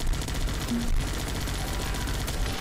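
Bombers carpet bombing in the video game Guns Up, a dense continuous rattle of rapid explosions and gunfire rolling on without pause, loud and busy.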